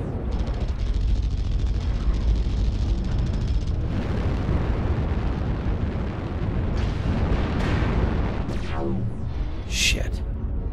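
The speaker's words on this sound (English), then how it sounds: "Warning incoming missile." Missile impacts and explosions in the mech combat game MechWarrior Online, a dense continuous roar of blasts and rumbling with rapid bursts and a piercing electronic warning tone near the end, loud throughout.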